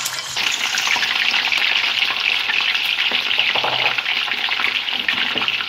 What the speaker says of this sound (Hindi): जिस ऑयल में हमने प्याज ब्राउन किए हैं इसी में अब हम फिश फ्राई करेंगे।